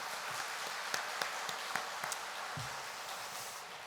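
A church congregation applauds the welfare committee during a Sunday afternoon worship service, with scattered, sparse hand claps sounding thin and somewhat distant over a steady background hiss.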